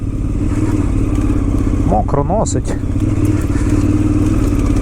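A KTM 990 Adventure motorcycle rides off-road across wet ground near a river, its engine a loud, steady rumble close up, with a rider briefly speaking over it.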